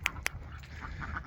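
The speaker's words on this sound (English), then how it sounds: "Let the ducks play a little bit." Ducks let out on a grassy yard give two sharp, close quacks near the start, followed by softer, more distant calls over low outdoor rumble.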